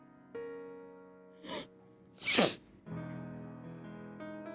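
A cartoon elephant's sneeze from a read-aloud picture book, heard as two short bursts, a brief sniff then a louder sneezing blast, set against a soft sustained musical background.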